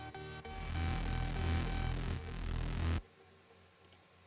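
Reese bass filler synth from a Serum preset in a song's verse, a thick detuned sustained bass tone that holds for about three seconds and then cuts off abruptly, leaving a faint quiet tail with a couple of small clicks.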